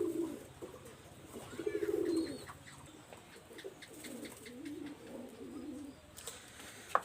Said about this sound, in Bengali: এটা হলো অরিজিনাল পিওর এক জোড়া ছালারা ব্রিডের কবুতর